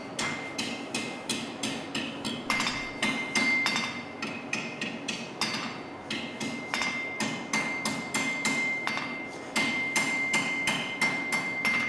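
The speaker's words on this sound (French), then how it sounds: "c'est le marteau qui fait avancer" Repeated hammer blows on metal during art ironwork forging, a steady rapid series of sharp ringing strikes in short bursts with brief pauses, close and loud throughout.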